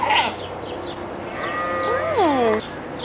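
A goat bleats nearby on a farm visit: a short rising-then-falling wavering cry near the end, preceded by softer bleats and background murmur.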